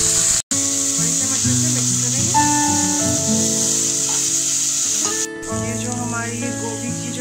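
Leftover cauliflower stalks fry in a pan with a few cauliflower florets, giving a steady, close sizzle that runs throughout, with a brief break near the start and a slight drop toward the end.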